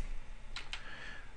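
Two quick keyboard key presses on a computer keyboard while editing images, a pair of soft close clicks about a fifth of a second apart over faint room hiss.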